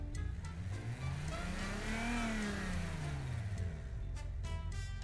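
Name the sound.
car engine revving in BeamNG video game, sounding like an R32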